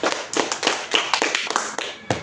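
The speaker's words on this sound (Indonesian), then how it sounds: "Ya, tepuk tangan dulu." Rhythmic hand claps from a classroom of students, about a dozen sharp slaps in an uneven, fairly steady pattern, close and fairly loud with no talking.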